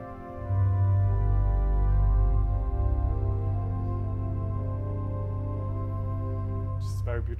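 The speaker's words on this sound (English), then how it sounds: "It's actually got a celeste stop," Sustained chords on the celeste stop of the chancel pipe organ at National City Christian Church, Washington DC, a gently wavering string tone with deep bass that holds steadily throughout, with a faint click near the end.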